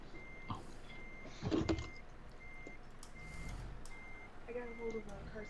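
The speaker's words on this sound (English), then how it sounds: "The backup beeper's pretty weak" A truck's reversing beeper in American Truck Simulator sounds a regular series of thin, fairly faint electronic beeps over low engine rumble, with a person speaking intermittently.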